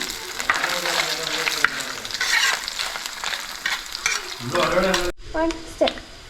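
Coconut pieces frying in hot coconut oil for a Kerala chicken curry, a close, busy sizzle with stirring and scraping; a voice talks over part of it before the frying dies down near the end.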